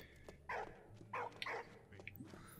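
Puppy in the video game Valiant Hearts barking in several short bursts, close and fairly loud, over a low steady game background hum.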